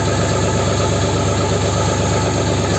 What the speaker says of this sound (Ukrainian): оберти на весь газ. без турбіни.